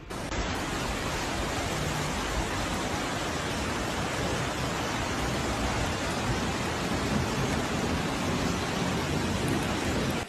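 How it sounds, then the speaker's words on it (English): Heavy rain pouring down amid flooding in Hebei, China, a dense, unbroken roar of downpour that stays loud and even from start to finish with no voices. "the rain shows no sign of stopping"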